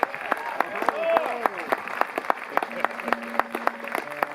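Audience applause at an outdoor listening-room concert as a bass player is introduced, steady clapping with sharp individual claps mixed with cheering and warm tonal sound from the stage.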